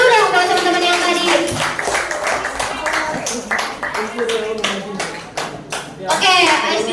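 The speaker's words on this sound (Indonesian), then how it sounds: "Tepuk tangan dulu dong buat teman-teman yang tadi." Audience applause for participants at a self-love and body-positivity education session, a sustained burst of many clapping hands filling the whole stretch, fairly loud and close, with some voices mixed in.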